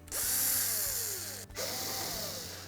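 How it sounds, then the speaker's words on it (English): A power drill spins out the retaining screws on the back access panel of an old washing machine, two loud, sustained whirring bursts separated by a brief pause, close up with no talking. "We'll simply remove the retaining screws for that access panel."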